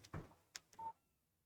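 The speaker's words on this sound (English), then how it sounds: "Text message from Barry." A phone's text message alert in the video game Alan Wake: a short series of three or four crisp electronic tones ending in a brief pitched beep, heard alone and fairly close.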